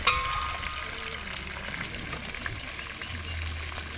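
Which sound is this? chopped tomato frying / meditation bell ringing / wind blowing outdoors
chopped tomato frying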